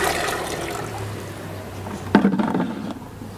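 Water is poured and transferred during a foot valve test: a faint low hum at first, then a sudden splashing gush that continues briefly and fades.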